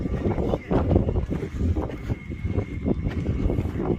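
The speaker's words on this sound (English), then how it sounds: "It's probably gonna be pretty windy" Gusty wind buffets the microphone with low rumbling bursts, rising and falling continuously throughout.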